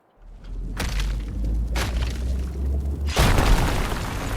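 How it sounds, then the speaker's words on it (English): Rock explosions while mining in the RuneScape Dragonwilds video game: a low rumbling boom with several sharp cracking bursts layered over a sustained deep roar, loud and close, with no talk. "Rock explosion."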